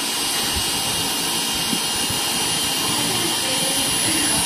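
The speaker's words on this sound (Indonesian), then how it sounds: "Tapi posisi fan tetap menyala." A Yamaha motorcycle's electric radiator cooling fan keeps running with the engine kill switch off, making a loud, steady, close-up whooshing whir that never changes.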